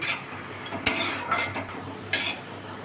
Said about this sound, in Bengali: তেলটা দিয়েছি কড়াতে, এবার বড়িটা দিয়ে দেবো। এবার বড়িটা আমি একটু ভেজে নেবো লাল করে।